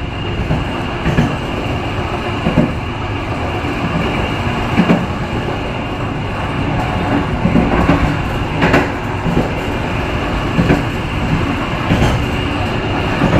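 A passenger train in Indonesia rumbles steadily along the rails near Pemalang station, with rhythmic clacks of wheels over track joints recurring every second or so.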